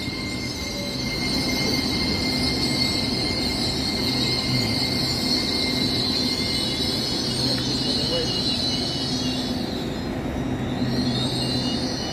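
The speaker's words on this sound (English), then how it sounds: "A Zuma train." An LNER Azuma train at Durham station rumbles steadily throughout, with a high whine held over the low engine and wheel noise and a brief dip near the end.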